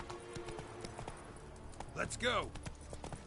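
Roach, the horse in Witcher 3, trots with steady, close clip-clop hoofbeats, while a voice speaks briefly over them partway through.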